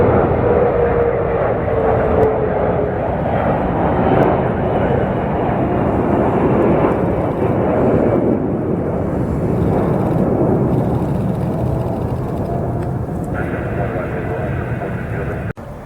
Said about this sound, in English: Air France Flight 54 inbound from Charles de Gaulle Airport in Paris